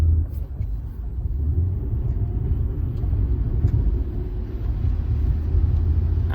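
A used car being test driven at a dealer-only auto auction, a low rumbling engine and road noise heard from inside the cabin, steady and moderately loud throughout.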